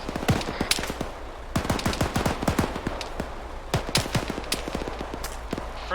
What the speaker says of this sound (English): I'm taking shots over to the east.